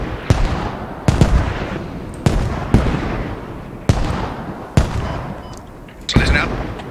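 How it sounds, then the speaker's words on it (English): Incoming mortar fire in a military video game: seven or eight sharp, loud blasts land at irregular intervals about a second apart, each one decaying with a rumbling tail. "Mortars incoming."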